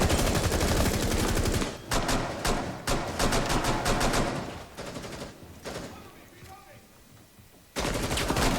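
Rapid automatic gunfire in Rainbow Six Siege, dense loud volleys that stop and restart in short bursts, with a quieter lull before a final close burst; players talk over the shooting.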